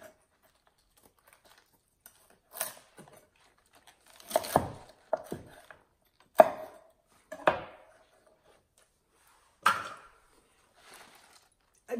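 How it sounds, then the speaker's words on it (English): A knife chops through the stem ends of rinsed rainbow chard on a cutting board, a handful of crisp, separate cuts spaced a second or two apart in a quiet kitchen. "I've rinsed it, and I'm gonna cut off just the very end"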